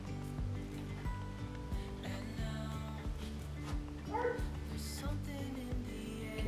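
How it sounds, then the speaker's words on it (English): A dog barks a few times in the background over a steady musical bed, the barks short and moderately loud. "You can hear my dog barking."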